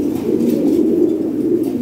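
Frill-type fancy pigeons at a sale coo in a continuous low, throaty murmur, close and fairly loud, with several birds blending together.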